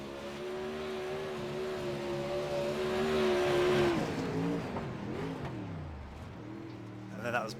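Dirt race car in the iRacing game driving over bumps on the Charlotte dirt track, engine note rising and dipping as it bounces, fairly faint, with speech over part of it.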